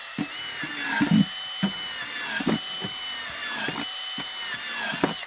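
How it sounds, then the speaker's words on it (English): A power drill whirs in repeated short bursts, spinning up and biting into a homemade de-rusting basket several times, with quiet pauses between each hole. "I'm just drilling holes anywhere."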